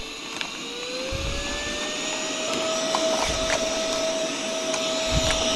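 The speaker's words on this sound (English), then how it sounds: "there's actually a lot of dust right here that I want to kind of vacuum up before I move further" A vacuum cleaner sucking dust and needle debris from inside a Brother 1034d sewing machine, a loud, continuous whining drone with a steady rising tone and occasional rattling clicks as bits are pulled in.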